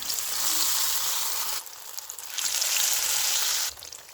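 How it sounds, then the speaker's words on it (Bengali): Chicken chops dipped in gram flour batter sizzle loudly in hot oil, a dense steady hiss that dips briefly twice before surging back, with no talking. "যেই বেসনের মিশ্রণটা বানিয়ে রেখেছিলাম সেই বেসনের মধ্যে দিয়ে চুবিয়ে আমি গরম তেলের মধ্যে ছেড়ে ভেজে নেব।"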